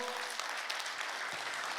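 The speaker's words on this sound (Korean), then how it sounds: "하나님께 영광의 박수로 크게요" A church congregation at a prayer retreat claps loudly and steadily, a dense wash of applause filling the whole moment.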